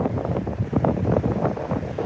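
Strong wind from a destructive thunderstorm in Australia buffets the microphone in a steady, heavy rumble that fills the whole stretch without a break.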